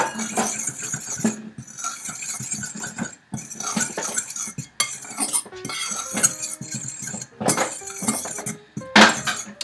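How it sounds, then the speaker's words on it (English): Dry shortbread ingredients mixed with chai tea are stirred in a bowl, giving close, steady clinking and scraping of a utensil against the bowl with short pauses between strokes. "And you're just going to stir this together, your dry ingredients,"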